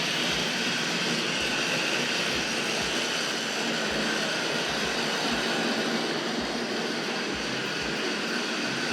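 Tri-ang Railways R3D model goods train runs along its track with a continuous loud whirring motor drone and a regular low clicking of wheels over rail joints, close and steady with no talk.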